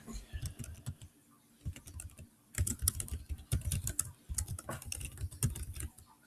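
Rapid keystrokes on a computer keyboard as an assignment title is entered, with bursts of clicking separated by short pauses, close and clear with no talking.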